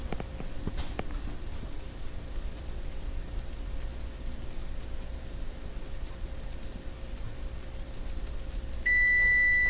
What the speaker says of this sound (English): The noise you just heard is my timer going off.